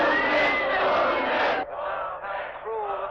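A football crowd jeers in a 1971 film, a loud roar of massed voices that drops suddenly partway through into rougher, rising and falling shouts.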